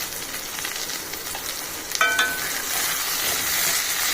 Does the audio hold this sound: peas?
yes